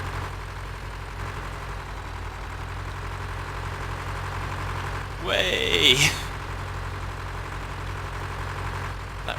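A tractor engine runs in the farming video game Farming Simulator 2013, a steady low droning hum throughout, briefly overlaid by a short voice.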